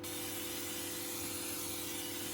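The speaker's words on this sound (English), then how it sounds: "get a bit of brake clean or some other kind of solvent that's just good at dissolving the grease, getting it out of there. Give it a little spray down." Brake cleaner solvent sprayed onto the part of a Suntour HESC CAN e-bike motor gives a steady, even aerosol hiss, fairly quiet and unbroken throughout, with no voices.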